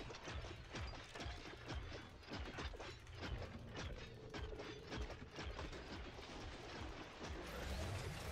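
Weapon reload in a co-op zombie shooter, rendered as a dense run of mechanical clicks and ratcheting clacks over steady game noise, loud and continuous with no talk.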